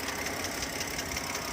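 A BMW engine idling in a driveway with a suspected VANOS fault, a dense, steady running drone with a faint rapid ticking or knocking pattern woven through it, loud and close with no voices.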